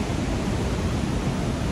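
A waterfall seen from a steep cliffside staircase in a bamboo forest gives a faint, steady broadband rush of falling water, distant and unbroken, with no talking.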